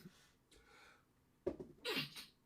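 A single sneeze bursts out after a faint breathy intake, fairly close but not loud, with no talking around it.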